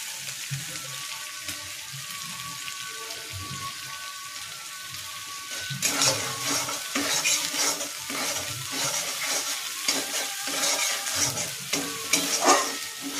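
Spice paste with green chillies sizzles in a hot pan while cooking a vegetarian rajma dish, quiet at first, then a louder burst of frying with repeated scraping strokes as it is stirred.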